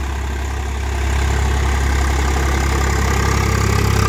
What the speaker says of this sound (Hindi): ट्रैक्टर आप देख सकते हैं 7 फीट का रोटावेटर कितना जबरदस्त तरीके से खींच रहा है